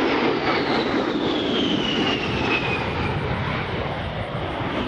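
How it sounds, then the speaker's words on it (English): An A-10 Thunderbolt II jet roars past during an air show demonstration at NAS Oceana, a loud, steady broadband engine rush with a whining tone sliding downward as it passes. "Ladies and gentlemen, look to your right, Major Wilton in the A-10 Thunderbolt 2"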